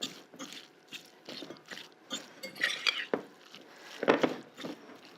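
A utensil mashes a tofu scramble mixture in a pan, producing quiet, irregular scraping and clinking knocks with scattered louder taps, fairly close and with no talking.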